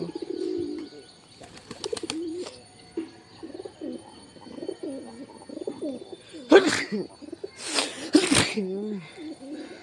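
A pet pigeon coos repeatedly in short throaty phrases close by, with a few sharp bursts of noise in between and a person speaking at times.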